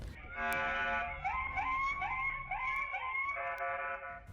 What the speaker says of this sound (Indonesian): Bunyi sirene mobil patroli membuat para pelaku kocar-kacir melarikan diri ke dalam gang sempit